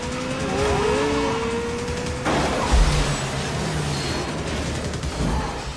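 A car engine in a movie scene revs and climbs in pitch, then drops abruptly as a gear shift hits, giving way to a loud, rough roar with a few heavy thumps.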